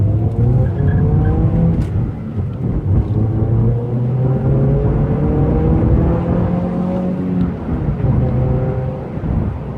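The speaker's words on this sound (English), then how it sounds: "Damn, that exhaust sings at higher RPM." A car's exhaust roars loudly at high revs, rising and falling in pitch through several gear pulls, with a steady harmonic drone throughout.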